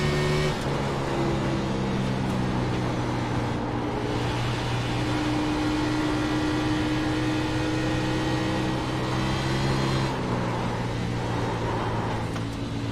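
A NASCAR race car engine during a video game hot lap at Atlanta, a continuous loud droning whine that shifts pitch as it climbs and eases through the lap.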